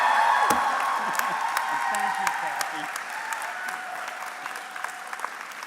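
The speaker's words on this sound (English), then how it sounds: "A round of applause for your support network that have made this possible." Convocation audience at a graduation ceremony in the Durham Greater Toronto Area applauding steadily, a dense wash of clapping with a few whoops and cheers, holding fairly even and slowly thinning toward the end.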